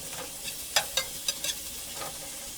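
Cumin and onions sizzling in hot oil for red beans and rice, a steady close hiss broken by several sharp stirring scrapes and pops.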